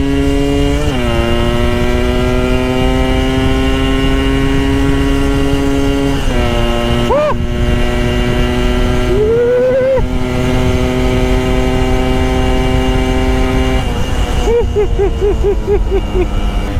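A two-stroke motorcycle engine idles loudly and steadily up close, with a few brief blips of revs and pitch shifts as the gear is worked.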